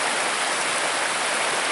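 Steady rushing river water, a dense broadband wash like a flowing stream close by, with no voices.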